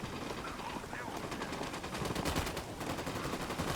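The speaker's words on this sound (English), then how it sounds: "I've got the mortar support, may as well use it" Mortar fire support called in during a Ghost Recon video game mission, heard as a rapid, rattling burst of repeated impacts and detonations that grows louder partway through, all fairly faint.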